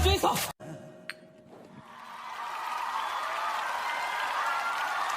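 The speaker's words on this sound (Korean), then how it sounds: "박수" A brief burst of speech and a light clink give way to a comedy show audience's applause, which swells and then holds as a broad, steady wash of clapping.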